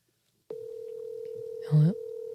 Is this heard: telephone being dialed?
yes